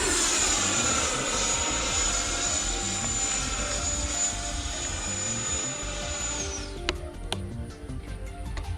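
A Horizon Hobby F-16 RC jet flies overhead with a loud, steady high-pitched turbine whine that drops away near the end, leaving a rougher rush of engine and wind noise.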